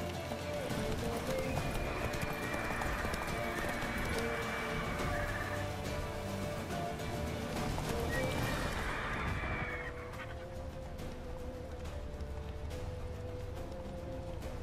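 Horse hooves galloping steadily in The Witcher 3, a continuous rhythmic clip-clop carried under game music and effects, with a shift in the backing sound about two-thirds through.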